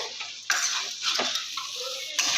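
Cooked pumpkin greens being mixed in a pan with raw mustard oil: close metallic scrapes and clinks of a spoon against the pan, a few sharp strikes and irregular stirring rustles over a faint background.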